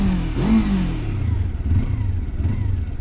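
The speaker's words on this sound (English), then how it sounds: "got the perfect exhaust note" A Kawasaki Versys-X 300 motorcycle revs its small engine, the exhaust note rising sharply at first and then settling into a steady, moderately loud idle rumble, close by, with no talking.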